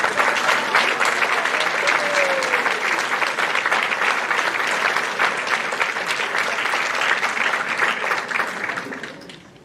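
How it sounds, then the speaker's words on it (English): School assembly crowd at an academic awards ceremony clapping for honor roll students, sustained dense applause filling the room for about nine seconds, then thinning and fading at the end. "Will we please give them all a round of applause?"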